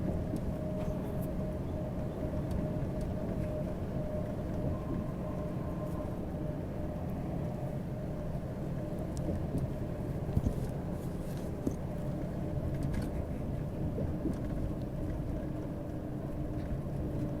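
V10 truck engine droning steadily while driving, a constant low rumble with road and cabin noise throughout, no voices over it.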